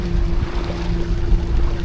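An electric trolling motor drives a small dinghy across the water with a steady, quiet hum. Water sloshes and splashes against the hull throughout.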